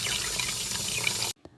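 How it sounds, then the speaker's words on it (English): Tap water runs steadily into a sink, a continuous close splashing rush that stops abruptly near the end, followed by a faint drip. "I open the cubicle door and walk over to the sink to wash my hands."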